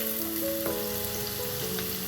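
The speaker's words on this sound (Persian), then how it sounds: "پیازامون رو توی تابه که روغن ریختیم و داغ شده میریزیم" Chopped onions frying in hot oil in a pan, a steady close sizzle and crackle throughout with a faint background hum and no talk.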